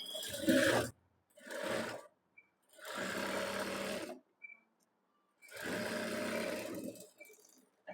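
Sewing machine stitching a blouse button strip, four bursts of rapid whirring stitching separated by silent pauses, the first short and loud, the later runs longer and steady, close up with no voices.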